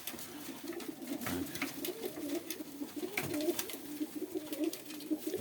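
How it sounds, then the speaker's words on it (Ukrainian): Several Yeysk double-crested pigeons coo steadily in a low, throaty murmur against a noisy outdoor background in freezing winter weather, with no talking. "Голуби шаленяють"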